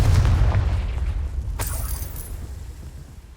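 A Confringo blasting spell explodes in Hogwarts Legacy with a loud, deep boom that slowly fades, followed by a sharp crackling burst and a lingering rumble.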